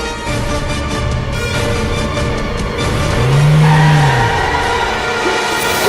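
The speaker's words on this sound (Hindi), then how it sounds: "अरे गाड़ी रोक रहे, गाड़ी रोक भाई।" A car driving off on a road, a loud, steady engine roar and road rumble close by, with a rising tonal whine or brief tire squeal partway through.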